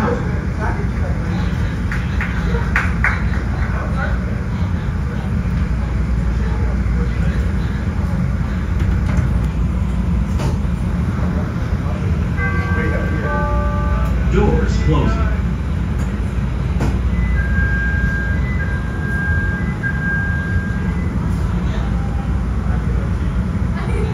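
Constant rumbling train noise from inside a moving Chicago CTA Purple Line elevated metro car, with a few tonal squeals and beeps briefly rising over the steady roar.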